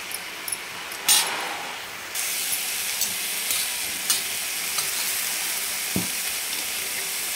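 Amaranth greens with coarsely crushed peanuts and garlic stirred in a frying pan, a continuous close sizzle with a few clinks and scraping turns of the spoon, no voices.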